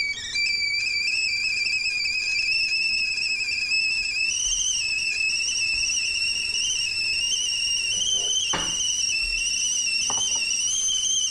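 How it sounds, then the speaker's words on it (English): A stovetop coffee pot kettle with an anti-scald handle whistles as its water boils, a loud, sustained two-tone whistle holding steady, with a couple of brief clicks partway through. "let's boil some water and listen to that whistling sound"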